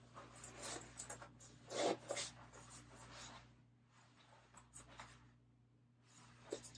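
A zipper is drawn up on a faux leather jacket in a few quiet, close rasping strokes, with soft rustling between them.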